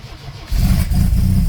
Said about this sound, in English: Then turn the key and you hear the fuel pump